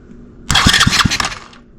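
A pit bike engine on a stand cranks over briefly from its starter, a loud close churning burst with a few heavy pulses that lasts about a second and then stops.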